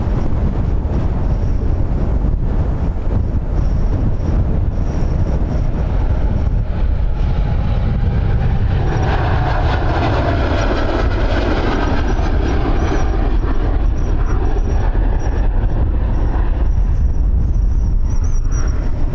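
Strong gusting wind buffets the microphone outdoors at Dublin Airport, a loud, continuous low rumble that swells and roars steadily throughout with no voices.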